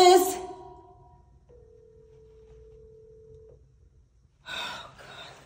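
A telephone call rings unanswered, a single steady electronic tone held for about two seconds in a quiet room, followed by a brief burst of noise.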